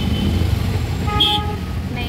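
Busy city street traffic in Bhopal, with engine rumble and a short car horn toot near the middle, while people talk over the road noise.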